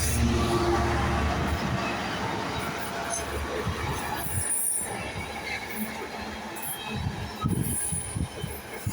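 A Class 66 diesel locomotive, number 66781, passes at South Kenton with a two-tone horn; a loud, continuous rumble of rolling wagons and wheel noise fills the whole stretch, close by and steady.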